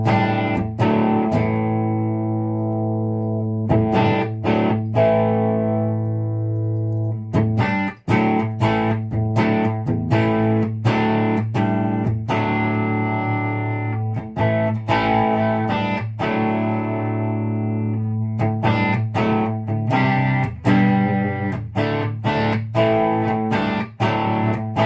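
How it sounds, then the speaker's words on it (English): Electric guitar overdriven through a homemade amplifier built from television tubes, with the treble turned up, playing sustained distorted notes and chords with a steady hum underneath, loud and continuous with short breaks between phrases. "You can see now it doesn't sound so wonderful now, the overdrive"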